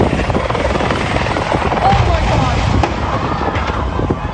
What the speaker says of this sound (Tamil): அமெரிக்காவில் முறையாக தரையிறங்காத ஹெலிகாப்டர் விபத்துக்குள்ளான காட்சிதான் இது